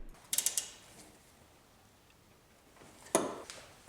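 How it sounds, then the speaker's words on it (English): A ratchet clicks in two short bursts while tightening the top shock mount hat nuts on a 4th-gen Toyota 4Runner during a Bilstein 5100 shock installation, close and crisp with a quiet pause between. "Now tighten the top 3 hat nuts down."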